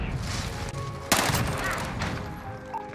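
Rapid burst of ISO submachine gun fire in a Modern Warfare multiplayer match, a sharp close volley cutting through ongoing game noise and distant shots.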